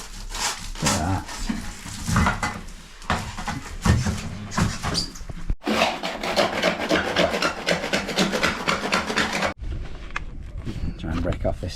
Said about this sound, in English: Try and break off this sand and cement.